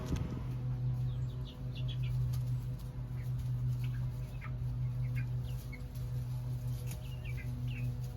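Farm chickens cluck softly and intermittently among other faint bird chirps, with a steady low hum running underneath and no talking.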